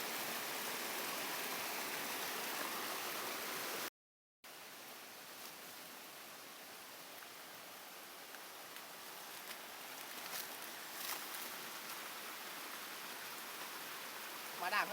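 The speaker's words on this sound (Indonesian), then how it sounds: "Air terjun mini." Steady rushing water of a small falls fills the scene with a constant broadband hiss, briefly cut to silence, then continuing with faint voices beneath.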